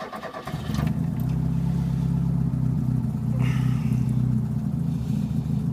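A Mk2 Ford Escort estate idling through a stainless exhaust, a steady low burbling drone close by that holds even and unbroken after a brief catch at the start.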